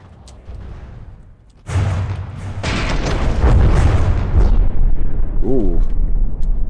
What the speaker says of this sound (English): Very big explosion. That might have been the ammunition again.